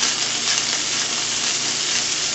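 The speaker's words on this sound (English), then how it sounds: "leave your medallions undisturbed cooking until they have a nice brown crust formed at the bottom" Thin beef tenderloin medallions sizzling undisturbed in a hot pan, a loud, steady crackling hiss that runs unbroken and close up.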